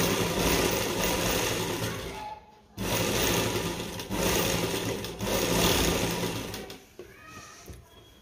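A sewing machine stitches lace around a round neckline in long, continuous whirring runs, broken by a brief stop and a few short pauses near the end.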